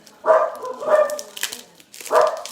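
Several close dog barks come in quick succession, three strong ones with a brief softer yip in the middle.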